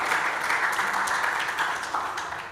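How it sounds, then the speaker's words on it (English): An audience at a lecture event applauds a musical performance, a steady close wash of clapping that thins slightly toward the end. "can we give them another round of applause?"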